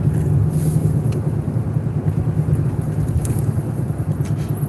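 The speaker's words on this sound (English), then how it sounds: "Look at all these cars." Steady low rumble of busy road traffic, many cars passing continuously close by, loud and even with no talk over it.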